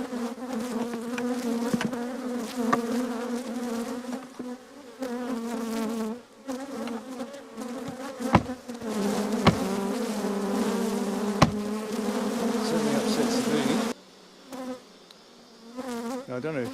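Honey bees swarm and buzz around an opened hive with two brood boxes, a dense, continuous droning hum with individual bees passing close, steady throughout with a brief dip near the end.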